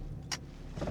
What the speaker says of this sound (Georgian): თურმე კარის ჩხაკუნის ხმა ყოფილა